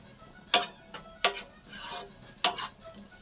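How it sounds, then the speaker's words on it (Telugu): Small tomato pieces frying in a pan for liver fry, with three sharp stirring scrapes of a utensil against the pan over a faint sizzle, close and with no talk. "చిన్నవి 2 టమాటా ముక్కలు కోసుకొని వేసుకుందాం. ఇది కూడా బాగా వేయించేసుకుందాం."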